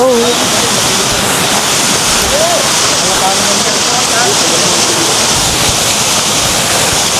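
At Calibato Lake, a waterfall pours with a loud, constant broadband roar that fills the whole scene. Voices talk faintly underneath.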